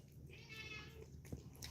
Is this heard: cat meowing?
yes